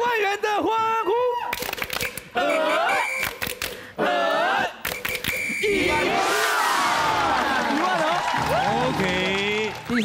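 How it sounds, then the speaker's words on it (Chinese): A group on a Taiwanese variety game show lets out a loud, ragged morale cheer, several voices shouting together in bursts with a big crowd roar building in the second half, mixed with talk and studio noise. "要不要先来一个士气欢呼一下"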